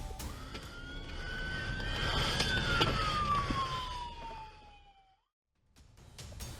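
A police siren wails up and then sweeps down during a high-speed chase of an Infiniti on a highway, loud over engine and road noise, then cuts off into brief silence before traffic sounds return.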